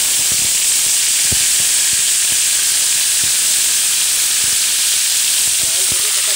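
Vinegar poured into garlic frying in oil gives a loud, continuous close hiss of steam and sizzle, with faint scattered clicks underneath.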